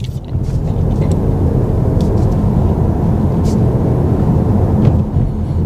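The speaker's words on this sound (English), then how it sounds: "let's see now how the new Passat drives." Steady low engine and road rumble from a 2024 ninth-generation VW Passat R-Line cruising, heard from inside the cabin, with a few faint clicks on top.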